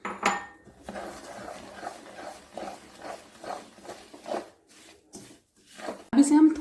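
Sesame seeds are stirred into thick jaggery syrup in a pan, giving a run of soft rhythmic scraping and knocks of a spoon against the metal. Someone talks over the stirring throughout.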